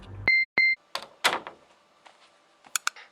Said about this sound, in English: I rushed into the office and shut the door behind me.